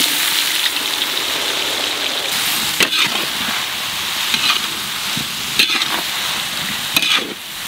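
Onions frying in oil with whole spices in a large pot for a village mutton curry, a dense steady sizzle with occasional scraping stirs and clinks.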